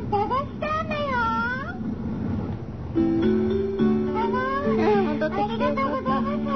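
A cat purrs and meows in the video game Kita e: White Illumination, several rising and falling meows close up alongside a soft purr, with a voice speaking over parts of it.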